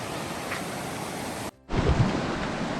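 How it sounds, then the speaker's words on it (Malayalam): Fast-flowing river water at a rafting spot near Pasanauri, a steady broadband rush close by and loud, briefly cut by a short gap before the roar returns. "അത്യാവശ്യം നല്ല ഫ്ലോ ഉണ്ട് വെള്ളത്തിന്."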